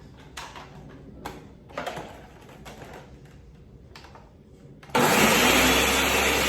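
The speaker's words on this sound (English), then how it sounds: "we're just going to grind that up into a fine meal" A kitchen blender grinds ingredients for peanut butter bliss balls into a fine meal, starting as a few short pulses and then running at a loud, steady whir.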